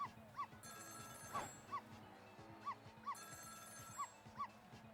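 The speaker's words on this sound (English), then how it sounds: "It was the sound of a telephone ringing coming from the apartment next door." A telephone rings in the apartment next door in the video game Ghost Trick, a repeated double-pulse electronic ring at a steady rhythm, heard faintly over a low background.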